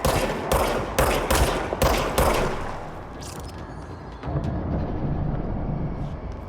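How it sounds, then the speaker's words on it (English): Service weapon firing in the game Control, a quick series of loud punchy shots in the first seconds, then fading into a softer rumbling ambience. "Right trigger to fire service weapon."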